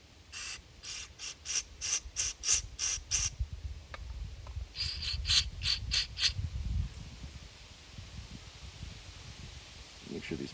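Starting fluid, doubling as parts cleaner, is sprayed into the fuel hole of a Toro Recycler lawn mower carburetor in a string of short hissing bursts, one quick series followed by a second after a pause, close and fairly quiet.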